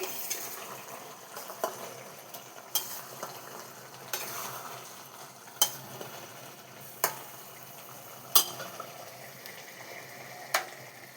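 Bottle gourd greens with onion stalks cook in a pan under a low, continuous frying hiss, broken by a spoon clinking against the pan every second or two in a loose, regular rhythm.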